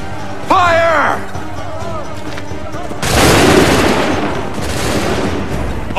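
Musket volley fired by soldiers in Assassin's Creed 3, a loud burst of massed gunfire crackling out together after a shouted voice, followed by lingering rumble and a second swell of shots.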